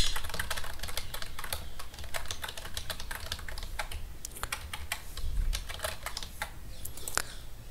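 Quick irregular clatter of computer keyboard keys as C code with a printf statement is typed, close and crisp, keystrokes arriving in bursts with brief pauses throughout.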